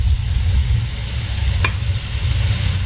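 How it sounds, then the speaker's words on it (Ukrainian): Eggplant drops into a pan where mushrooms and onions are already frying, giving a steady low sizzle with one brief sharp clack partway through. "Грибочки з цибулькою злегка підсмажилися, додаємо сині."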